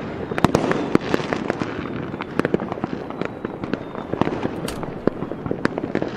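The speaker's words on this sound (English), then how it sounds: "See if I can get like a fireworks green screen effect." A fireworks sound effect fills the air with dense crackling bursts and sharp pops that overlap continuously over a hissing rumble, loud and busy throughout with no voices.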